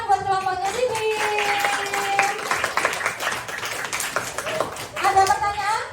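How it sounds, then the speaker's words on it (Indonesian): A class applauding a presenting group, scattered hand claps in a mixed, uneven patter, with voices talking and calling out over the clapping. "Tepuk tangan buat kelompoknya Sibil"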